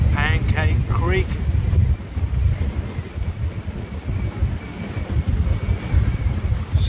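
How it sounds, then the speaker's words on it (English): A sailboat heads out off Central Queensland, Australia, with loud steady wind buffeting the microphone and waves washing against the hull throughout. A brief high whistle or squeal cuts through near the start. "I've raised the anchor and I'm heading out there."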